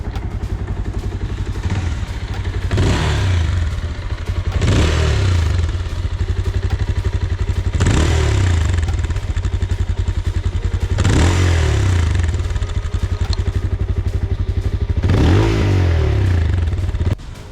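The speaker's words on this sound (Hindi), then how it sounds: "Now let's listen to the exhaust note of this bike." A 220 cc Bajaj Pulsar 220F motorcycle idles with a loud, steady exhaust note, revved five or six times in regular bursts that rise and fall back to idle, close up with no talk.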